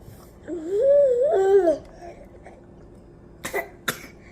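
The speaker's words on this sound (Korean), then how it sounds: "콜록콜록" A brief whiny, wavering vocal sound, then two short, sharp coughs from a baby drinking water, close by in a quiet room.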